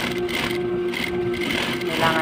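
A sewing machine stitches a fabric grocery bag, a steady close mechanical whir and rattle running throughout at an even pace.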